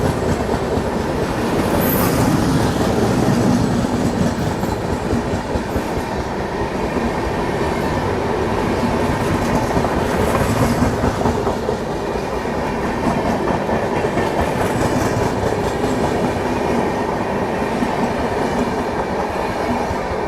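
A Duronto Express on the Delhi–Howrah route runs on the tracks with a loud, continuous rumble, rolling wheel noise and rattle heard close up from on board, and no voices.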